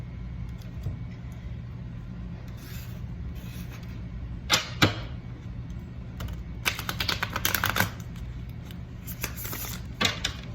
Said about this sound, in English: I'm gonna go ahead and shuffle.